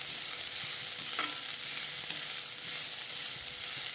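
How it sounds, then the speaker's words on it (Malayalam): Finely chopped broad beans (amarakka) are sautéed in oil with onions, producing a steady close sizzle with occasional soft scrapes and taps of stirring. "കൊത്തി അരിഞ്ഞ് വച്ചിരിക്കുന്ന അമരക്ക ഇട്ട് ഈ എണ്ണയിലിട്ടൊന്ന് വഴറ്റണം"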